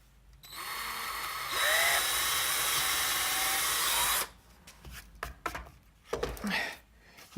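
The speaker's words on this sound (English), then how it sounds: "I'm gonna continue with the 12-volt drill because it has the speed for this hole saw." A 12-volt drill spinning a hole saw through material for a bartop arcade speaker cutout whines steadily for a few seconds, then stops, followed by scattered handling knocks and clatter.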